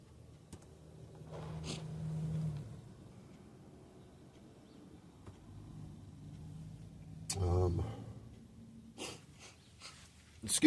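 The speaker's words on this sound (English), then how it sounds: "Excuse me for sniffling again." A person sniffles several times through the nose, with short breathy snorts spaced a few seconds apart over a quiet background.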